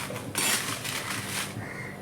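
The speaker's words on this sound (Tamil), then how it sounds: "ஒரு 2 minutes இதை வந்து நல்லா வதக்குங்க" Dried red chillies being dry-roasted in a pan for sambar rice: a brief burst of rattling and clinking as the chillies are tossed against the metal pan, followed by lighter scraping and faint crackle.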